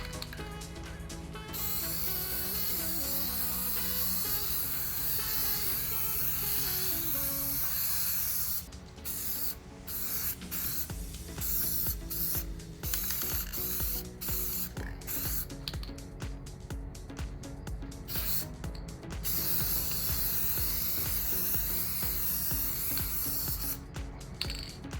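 Gold paint is sprayed onto a canvas in long hissing bursts broken by short pauses, close and loud, with a rattling mechanical texture throughout.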